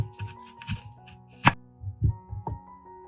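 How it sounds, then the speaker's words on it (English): Knife cuts an apple into small pieces on a board, several soft thuds and chops at an uneven pace, close and moderately loud, with one sharper crisp cut in the middle. "cut the apple into small pieces"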